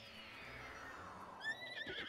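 A single horse whinny in Zelda: Breath of the Wild rises and trembles near the end of a short, quiet stretch, faint hoof clops following under a soft game ambience.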